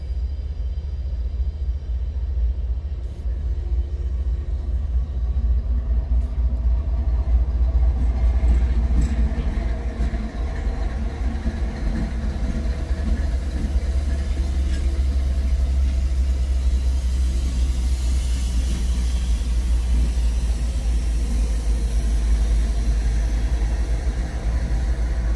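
A CN freight train with two sand loads and an autonomous inspection car rolls past in Ladysmith, a loud, steady low rumble and engine drone that holds throughout.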